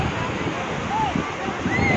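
Ocean surf and wind wash around a small boat near the shore, a constant rushing hiss with gusty buffeting against the microphone and a faint distant whistle-like tone.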